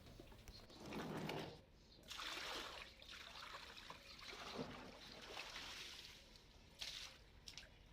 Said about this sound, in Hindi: जितना पानी बचा है उसी पानी से मैं यहाँ पे गैलरी अपना धो देती हूँ।